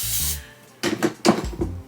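Two short hissing bursts from a can of black lace spray, close by, following a brief muffled knock.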